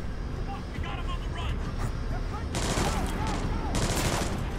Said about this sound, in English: We're hearing a small arms fire in the terminal